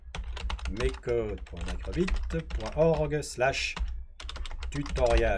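Keys clatter steadily on a computer keyboard as a web address is typed, the quick clicks running beneath continuous French-speaking narration.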